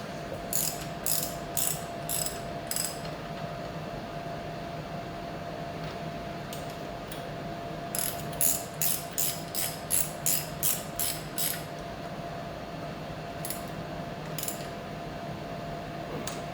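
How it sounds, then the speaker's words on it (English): A ratchet tightens 17 mm bracket bolts on a 1979 Lotus Esprit, with rhythmic clicking strokes in short runs, a longer rapid series midway and a few final clicks over a steady low hum. "So I'm going to tighten these bracket bolts up. These are 17 millimeter."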